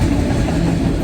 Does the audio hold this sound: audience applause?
no